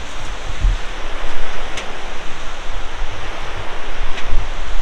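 A river rushes below an iron footbridge on the Chalal trek near Kasol, a steady broadband roar of flowing water mixed with wind buffeting the microphone, with no voices.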